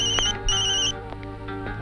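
An electronic telephone ringtone sounds for an incoming call, with two bright repeating tonal bursts in quick succession, fairly loud and close, over a faint background hum.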